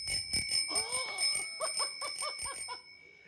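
A small bicycle bell mounted on a novelty beer-mug holder rings repeatedly in quick bright dings, close and clear, with a few voices murmuring underneath before it fades out.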